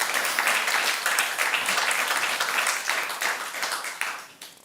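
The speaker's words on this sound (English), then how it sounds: "Please give him a warm applause." Audience applause for a guest joining a panel on stage at a public discussion event, dense sustained clapping from a crowd that holds steady, then thins and fades toward the end.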